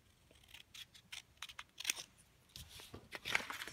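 Scissors snip repeatedly through thin lines for matrix framing, producing soft, close crisp cuts with light crinkling in an irregular rhythm, fairly quiet throughout.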